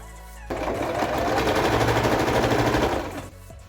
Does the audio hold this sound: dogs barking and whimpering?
no